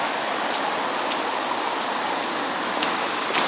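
Steady, hissing wash of light autumn rain on the cobbled streets of a medieval village, constant and fairly loud, with a few faint drip ticks and no voices.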